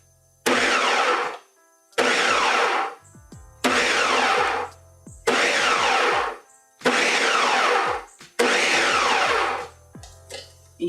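Blender pulsing kale and spinach for a coconut dip, six loud whirring bursts of about a second each, separated by short pauses and ending with a brief stutter, nearby with no talk.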